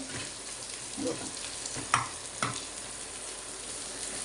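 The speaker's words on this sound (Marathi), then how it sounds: "तीन ते चार मिनटं असे चांगले परतून घ्या कांदे थोडीशी थोडेसे सोनेरी कलर येईपर्यंत आपल्याला परतून घ्यायचे" Onions sauté in a pan until golden for an all-purpose masala paste for chicken, mutton or vegetable curries. A soft, steady sizzle runs throughout, with a few light stirring knocks near the middle.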